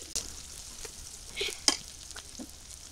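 Spice paste dropped into hot oil in a home village kitchen, sizzling quietly with scattered crackles and brief spits, a few stirring scrapes and pops over a low hiss.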